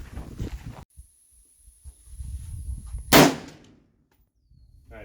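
A single sharp rifle shot cracks out at an outdoor shooting range while rifles are zeroed, loud and close with a short decaying tail, preceded by muffled handling noise and quiet gaps.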